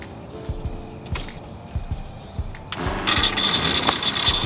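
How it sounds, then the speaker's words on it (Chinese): The water pump motor of a DIY kei-truck camper van starts running dry. A few light clicks and knocks come first, then the motor rises into a steady whirring hum with a thin high whine, close and continuous. "现在这边就是会吸水，它现在在干抽。"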